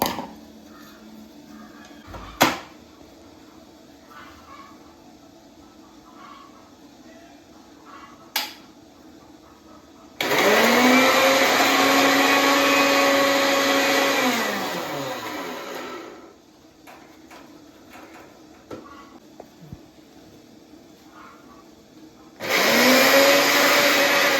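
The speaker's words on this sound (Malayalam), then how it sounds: "മിക്സിയിലിട്ട് ഒരു അടി അടിച്ചാൽ മതി." A mixie grinds a chutney of small onions, chilli powder, salt and cumin in two bursts: a loud whirring run of about five seconds that winds down, then a second start near the end, with faint kitchen clatter between.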